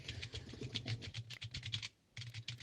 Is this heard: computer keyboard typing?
yes